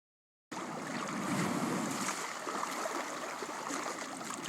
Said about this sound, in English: So we've got the video of the ocean and the sound of the waves.